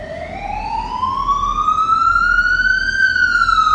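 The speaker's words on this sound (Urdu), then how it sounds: "مسعود نے فوراً ایمبولینس منگوائی" An ambulance siren in a horror story sounds as a single loud, steady wail that sweeps slowly upward in pitch and levels off, with no voices over it.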